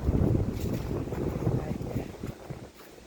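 Autumn wind blows outdoors in a garden where a grapevine is being pruned and leaves are falling, a constant low rumbling gust buffeting the microphone that eases slightly toward the end.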